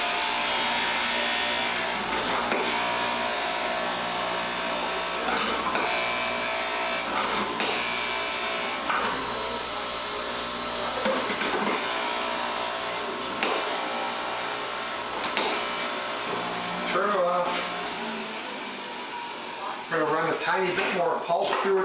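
Jay Kordich Power Grind Pro centrifugal juicer running with a continuous whirring and grinding hum, pulsing slightly as produce feeds through, with a person talking over it throughout.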